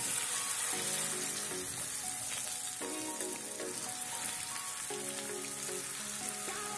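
Batter of dried small shrimp and banana flower with asafoetida sizzles and crackles in hot oil in a pan, a continuous bright hiss with soft popping, close by and uninterrupted.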